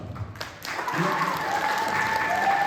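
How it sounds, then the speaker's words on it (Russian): Applause from an audience at a school graduation pageant swells after a brief quiet start and holds steady as dense, fairly soft clapping, with a few faint voices under it. "Аплодисменты ребятам!"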